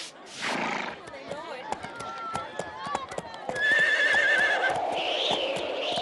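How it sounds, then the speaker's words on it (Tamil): A cartoon horse gives a loud, shrill whinny alongside rhythmic hoof clip-clops, with spoken dialogue and music around it in an old animated show. "இந்த குதிரை பார்க்க அழகா இருக்கு, எனக்கு அது தர முடியுமா?"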